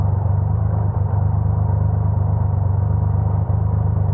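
A Rocket GT motorcycle engine idles at close range with a steady, loud, low throbbing rumble that stays even throughout, with no talking.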